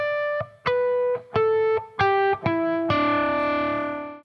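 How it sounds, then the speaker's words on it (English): Electric guitar with effects ringing out a series of natural harmonics, six bell-like chiming hits stepping across the strings, the last one sustaining and slowly fading; clear, close and without talk. "It's natural harmonics."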